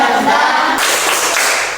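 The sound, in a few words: group hand clapping, a spirit clap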